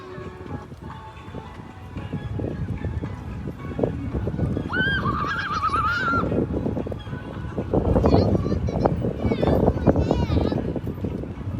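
A horse gives one wavering whinny of just over a second in the middle, during a beginners' riding lesson, amid ongoing shuffling and movement noise.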